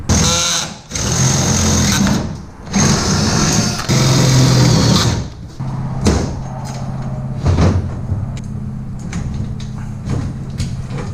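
A power drill whirs in several short bursts into wood while building a boat blind, close and loud, with pauses and handling clatter between runs.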